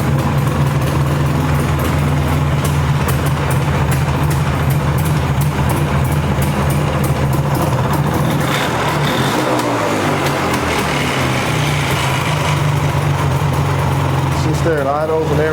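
A Polaris 400cc two-stroke ATV engine idles steadily and loudly up close, with a brief throttle blip partway through and someone speaking over the running motor.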